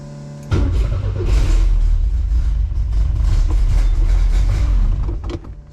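A supercharged 1971 Volvo 1800E four-cylinder cranks and catches abruptly, then runs with a loud, lumpy, uneven rumble and a steady whine for several seconds before faltering near the end.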